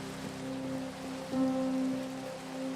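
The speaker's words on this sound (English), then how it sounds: "Man, it is hard to tell what time it is when it's raining, huh?" Steady rain hiss in the Minecraft video game, a soft continuous wash of falling drops under a low droning tone, with no voices.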